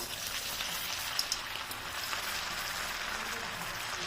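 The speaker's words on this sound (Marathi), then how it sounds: "तर आपण तेलामध्ये वडे सोडूया।" Sabudana vadas dropped into hot oil to deep-fry give a soft, steady bubbling hiss with a few faint pops, quiet and without voices.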